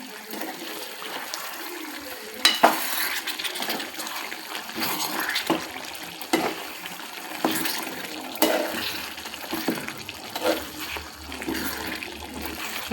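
Tomato curry liquid simmers and is stirred in a cooking pot, giving a continuous bubbling, sizzling wash with scraping stirs and occasional louder clatters of the utensil against the pot.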